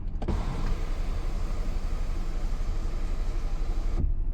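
A Hyundai Exter's electric sunroof motor runs in one steady, even whir for about four seconds, close and clear inside the cabin, starting and stopping abruptly with no talking.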